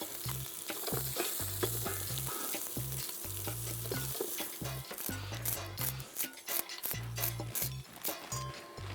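Beet greens sizzle and fry in melted butter, a steady crackling hiss with repeated rhythmic stirring strokes, close and fairly loud with no talking.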